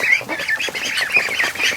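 Several free-range ducks quack and chatter together at close range inside their straw-bedded coop, a continuous busy clamor of overlapping calls with no pauses.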